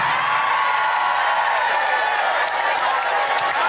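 A crowd at an Islamic sermon claps and cheers in a steady, dense wash of applause with whoops mixed in, loud and sustained throughout with no voice rising above it.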